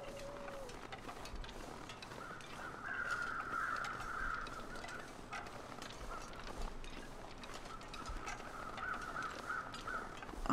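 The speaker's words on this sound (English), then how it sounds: "what are all these crows doing?" Crows cawing in the snowy wilderness survival game The Long Dark, several raspy calls at a moderate distance over crunching footsteps and low ambient wind.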